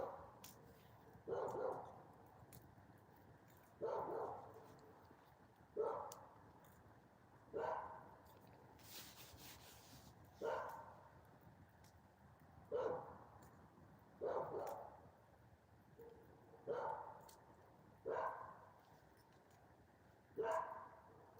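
Dog barking outdoors in cold weather, about ten single barks repeating every two seconds at a steady pace, moderately distant and fairly faint against a quiet background.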